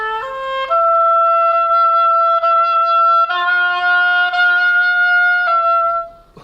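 A solo oboe plays a slow etude, sustained clear notes moving stepwise with smooth legato changes and a tapered fade at the end, close and alone with no talking.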